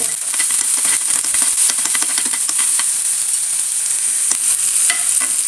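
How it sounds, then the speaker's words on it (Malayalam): Two or three green chillies sizzle in hot coconut oil in a pan, a steady loud frying crackle with dense popping spits running throughout and no voices. "ആ പച്ചമുളകൊന്ന് ഒരു മിനിറ്റ് നേരം ഒന്ന് മൂപ്പിച്ചെടുക്കുക"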